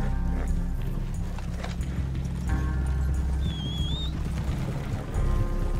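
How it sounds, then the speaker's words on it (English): Horse hooves clip-clop steadily in a video game, a continuous rhythmic trot under game music, with a brief whinny-like tone partway through. "Follow me, horsey."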